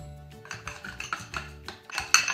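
Spoon stirring honey face mask ingredients in a bowl, giving a steady run of clinks and scrapes with louder strikes toward the end.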